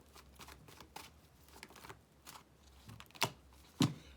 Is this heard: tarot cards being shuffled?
yes